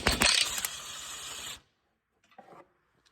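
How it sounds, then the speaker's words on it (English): A pneumatic-style impact wrench with a 15 mm socket on an extension rattles hard against car frame bolts during a 2005-10 Chevrolet Cobalt clutch job. There is one loud burst of about a second and a half, then near silence with a faint clink. "Just getting on these with a 15 millimeter and extension with the impact."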